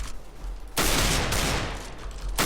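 Sustained automatic rifle spray in CS:GO, a loud continuous burst of rapid gunfire starting after a short lead-in and running to the end, with quieter shots before it.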